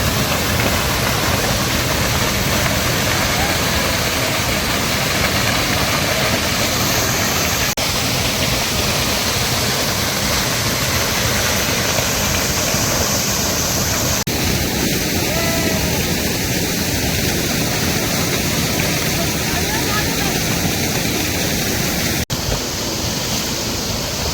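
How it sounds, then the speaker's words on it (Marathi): Sai waterfall near Karnala fort sends up a loud, steady roar of falling water that fills the whole stretch without a break, with no voices over it. "आता मी साई धबधब्यावर पोहोचलो"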